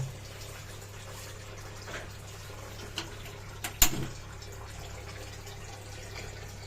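Tap water runs in a soft, steady low stream as saga leaves are rinsed under it, with a few small clicks and a brief louder splash partway through.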